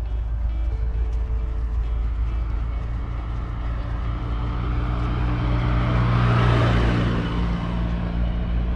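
An old car rolls past on a road during a walk between Leverkusen and Cologne, its engine a steady low rumble that swells as it nears and peaks close by before easing off.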